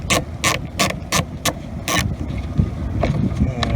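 Ratcheting clicks from a hand driver turning a Torx T10 screw out of a car side power mirror, a series of sharp rhythmic clicks up close, then quieter fiddling.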